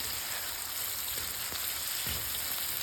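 Hilsa fish fries in oil with a dense, even hiss and sputter, steady throughout, with a couple of faint knocks and no speech.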